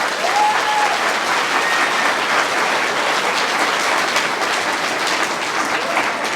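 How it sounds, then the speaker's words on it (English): Steady, dense applause from a school audience for a fifth grade band at a spring arts festival, a continuous roomful of clapping holding at an even, loud level with no talk over it. "please go ahead and give them a round of applause for all their hard work."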